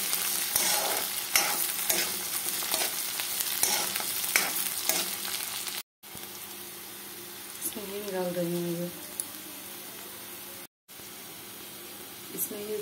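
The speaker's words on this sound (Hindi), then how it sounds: "प्याज को ब्राउन करेंगे" Onions and a bay leaf fry steadily in a pan with a constant close hiss and sizzle, broken by a few short gaps and some stirring scrapes, while a person talks over it.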